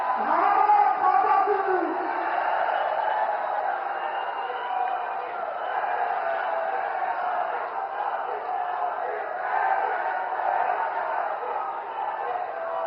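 A large crowd at a political rally in Kanpur, India, cheers and applauds steadily, a loud continuous roar of clapping and shouting that holds throughout.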